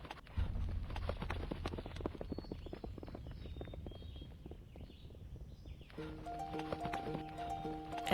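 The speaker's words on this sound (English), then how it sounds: "And she's just riding her horse." Horse hooves clip-clop in a steady walking rhythm as a rider travels along in the video game To the Moon, with soft musical tones joining near the end.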